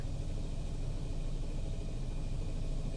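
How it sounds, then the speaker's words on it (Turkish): In a body shop where a BMW is being prepared for paint, an air compressor hums steadily in the background, a constant low rumble with no breaks over a few seconds. "Kompresör çalışıyor arkada."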